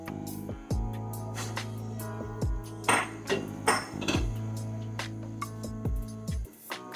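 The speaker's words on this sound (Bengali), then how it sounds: "নাড়াচাড়া করে নেবো মাছটাকে নিয়ে মশলার সঙ্গে।" Koi fish stirred with spice masala in a pan, cooked without oil: a spoon scraping and knocking against metal in irregular strokes, several sharp clanks over a low steady hum.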